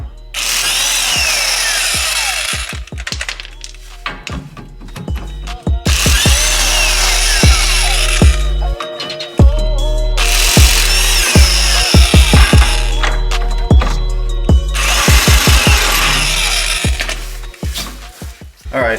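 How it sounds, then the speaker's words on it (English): A power tool backs out the rear lower control arm bolts on an Acura RSX (DC5), running in several long, loud, close whirring bursts with short clanks and pauses between them. "let's get the bolts off and try and get these control arms and all this other stuff installed."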